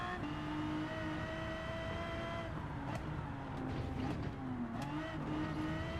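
Aston Martin Vulcan engine in Gran Turismo 7, a steady droning engine tone with shifting pitch as revs rise and fall, with mechanical clicks and brief sharp transients over the constant hum.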